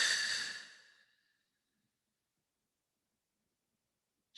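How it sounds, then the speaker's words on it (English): A long, slow breath out during a guided breathing exercise, airy and close, fading over about a second into near silence before a brief new sound at the very end. "and then exhale."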